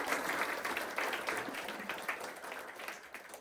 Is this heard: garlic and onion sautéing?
no